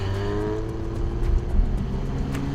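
A Porsche accelerating in Sport Plus mode, heard from inside the cabin as a steady engine drone with rising pitch and a brief surge midway, with no talk.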